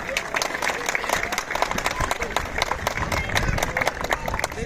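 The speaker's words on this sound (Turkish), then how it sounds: "sizler de bu mutluluğa güçlü bir alkışla şahitlik eder misiniz?" Wedding guests at a Turkish ceremony applaud strongly, a dense, steady wash of many hands clapping together, loud and sustained throughout with no talk over it.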